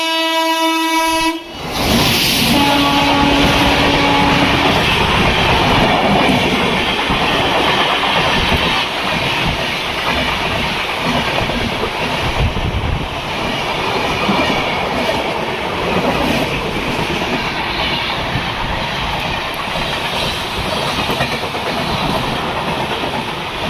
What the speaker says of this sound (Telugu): ఆ ట్రైన్ అలా క్రాస్ అయిందో లేదో మన ట్రైన్ కూడా వెంటనే తీసేసాడండి.